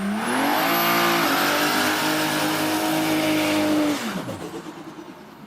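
A Ford 6.0 Powerstroke diesel V8 revs hard and loud, holding a steady high snarl for about four seconds before dropping off quickly as the throttle closes, with no voices.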